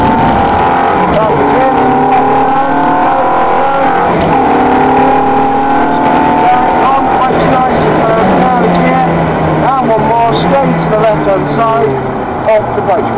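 A Ferrari F430 accelerates hard around the Trac Mon race track, the engine note climbing and shifting through repeated revs, loud and close throughout.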